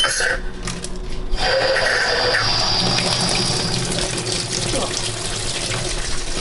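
Cold tap water runs steadily into a portable washing machine, a continuous close hiss and splash of filling that holds at an even level throughout.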